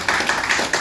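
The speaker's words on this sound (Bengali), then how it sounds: "সো র্যাক্সের জন্য আমরা একটা করতালি দিই।" Audience at a business meetup giving brief applause, a few quick clustered claps close by in under a second.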